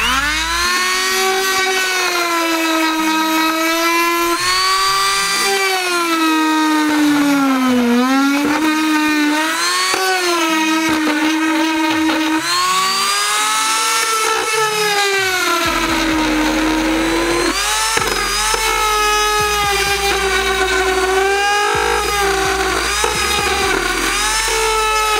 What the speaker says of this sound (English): So I'm using the grinding wheel on this a little Milwaukee Dremel that I have, and I'm going to show you how I'm notching it.